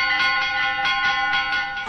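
Church bells ring out the Ave Maria peal for mass, loud and close, with repeated strikes layered over a sustained metallic hum and overlapping ringing tones.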